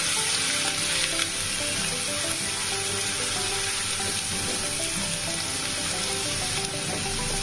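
Onion paste frying in hot oil in a pan, a loud, continuous close sizzle with occasional stirring, no voices.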